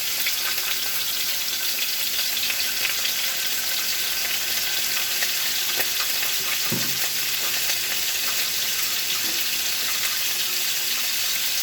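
Shrimp fry lightly in a pan for Tom Yam seafood pasta, giving a steady close sizzle with a brief clink or scrape near the middle, and no talk over it.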